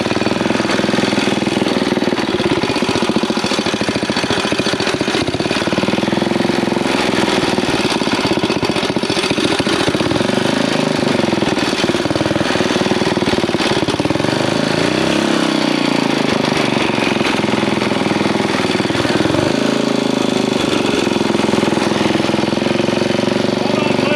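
A 1971 ROKON two-wheel-drive motorcycle engine, neglected for twenty years, runs loud and close with a continuous rough, chugging drone for the whole stretch.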